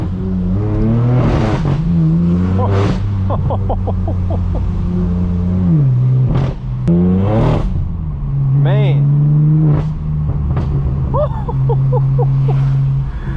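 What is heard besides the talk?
car tires fighting for traction, engine revving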